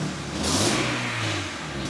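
Honda CR-V with a swapped TSX engine and six-speed AWD, revved close by with an exhaust that may be unconnected or leaking, giving a raw, loud rise and fall of engine roar lasting about two seconds.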